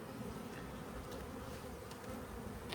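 Honey bees from an inspected hive colony hum in a steady, continuous drone, close and moderately loud throughout, with no talking.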